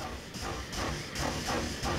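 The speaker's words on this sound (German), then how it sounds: "Der sollte ja jetzt gerade hier aus dem Depot rausfahren." A steam locomotive pulls out of a depot in the Transport Fever railway game, with steady loud hissing steam in rhythmic chuffing pulses and no voices.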